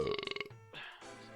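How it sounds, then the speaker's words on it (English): A close, loud burp into a microphone, a rough pulsing croak that breaks up into a couple of gurgling follow-ups. "those burps will sound weird coming through the microphone"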